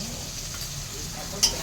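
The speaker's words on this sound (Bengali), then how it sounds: "এবার আমি আর একটু নাড়ছি, দেখুন কেমন নাড়ছি দেখুন" Ginger, onion, capsicum and garlic with turmeric powder being stirred in a pan: a steady low frying hiss with soft scraping, and a single brighter clink of the utensil near the end.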